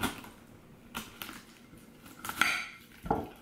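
A chef's knife cutting a pineapple down the middle on a plate: a few crisp, separate clicks and scrapes of blade against fruit and plate, close and fairly quiet, with short pauses between them.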